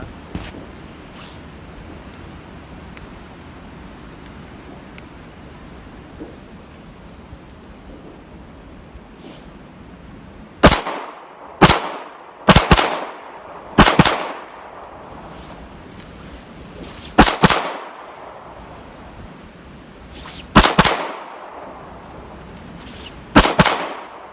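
Cheap pistols, a Taurus G2 and an M&P, firing at an outdoor shooting range, sharp loud cracks in uneven bursts of single shots after a quiet stretch of low background noise, no talking.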